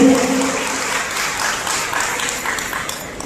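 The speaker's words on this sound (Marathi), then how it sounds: "टाळ्या वाजवूया राजकीय यांच्या या स्वागतासाठी" Crowd applause welcoming guests at a birthday celebration event, a dense burst of many hands clapping that gradually thins and fades over a few seconds.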